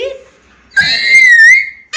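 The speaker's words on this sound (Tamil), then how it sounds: "சென்னை சூப்பர் கிங்ஸுக்கு பெரிய விசில் அடிங்க." A loud, close whistle rises and falls for about a second in cheering for Chennai Super Kings. A brief voice comes just before it, and another starts right after.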